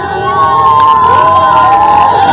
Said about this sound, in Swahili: shangwe na vigelegele, shangwe na vigelegele kama hivyo